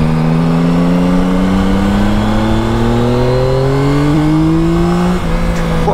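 Yamaha Tracer 900 GT motorcycle engine while riding on a twisty road, a loud steady drone slowly rising in pitch as it accelerates, with wind rushing throughout.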